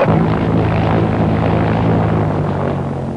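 An airplane flies close and loud, with a steady droning engine and propeller roar holding throughout and easing slightly toward the end.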